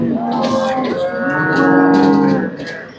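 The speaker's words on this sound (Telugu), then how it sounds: "ఈ ఆవు చూస్తున్నారు కదా" A cow at the Sardar Nagar cattle market lets out a loud, close, drawn-out moo lasting a couple of seconds, with no voices over it.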